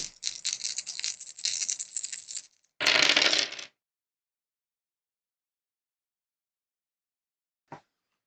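Eight dice rattle and tumble onto a table for a long scattered patter, followed by a short denser clatter as they settle, then quiet except for one faint late tick.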